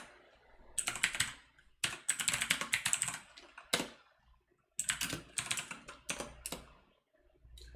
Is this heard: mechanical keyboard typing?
yes